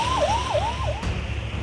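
An emergency siren warns people during flooding in Uttarakhand, its rising and falling wail repeating three times over a loud, rumbling outdoor background.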